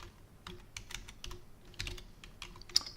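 Typing on a computer keyboard, a run of quick irregular key clicks in short bursts with brief pauses, close and fairly quiet, with no talk.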